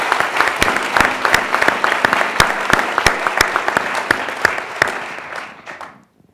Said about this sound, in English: Yes, you should applaud.